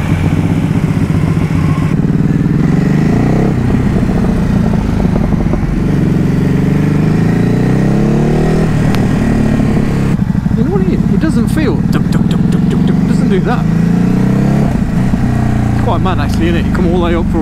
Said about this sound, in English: Let's see if we can go and have a quick cheeky test ride with that little dirty V4.